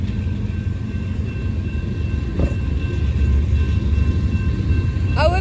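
A freight train with three locomotive units passes near Texarkana, a loud continuous low rumble with rolling wagon noise building slightly, and a brief squeal near the end.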